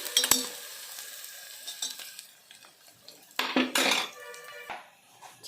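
Chopped tomatoes go into a pan of onions frying for a mutton and spinach curry, with a soft sizzle under irregular bursts of spoon scraping and metal clinks against the pan, close by, with no talking.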